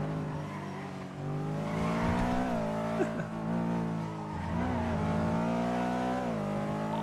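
A steady, loud car engine in a video game drones on with shifting pitch as it revs, with brief tire-squeal-like scrapes over the continuous motor.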